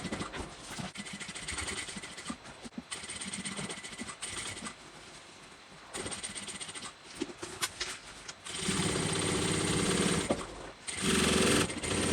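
A sewing machine stitches a seam on a bucket bag in rapid mechanical bursts, whirring loudly for a few seconds, stopping, and starting again with uneven pauses.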